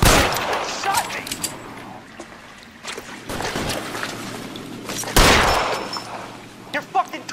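Gunfire and loud bangs in the video game L.A. Noire crack out several times among clattering action noise, with voices shouting over the fight.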